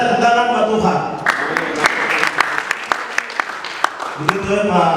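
A church congregation at a pastor's birthday service claps in scattered, irregular sharp hits, loud and near, while a voice talks or sings around and over them.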